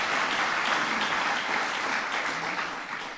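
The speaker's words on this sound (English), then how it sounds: "Nothing wrong with clapping about that" Dense, sustained audience applause fills the room at a presidential speech on the Precision Medicine Initiative, holding loud and steady before tapering slightly at the end.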